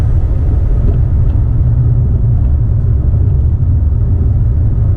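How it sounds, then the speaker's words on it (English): Steady low engine rumble and constant wind noise from inside a moving Mitsubishi 380, loud and unbroken, with no voices. "Nothing but the engine and the wind noise."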